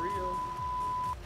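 A single steady electronic beep from Farming Simulator 19 gameplay on the Midwest Horizon map holds for about a second at moderate loudness over a faint background murmur.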